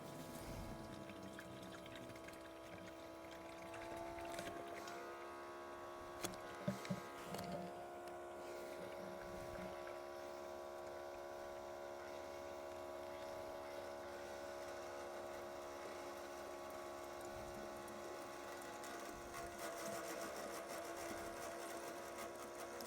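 A steady pump hums continuously with a stable pitch during an oxalic acid vapor treatment of honeybee colonies for varroa mites, with a few brief knocks in the middle and no talk.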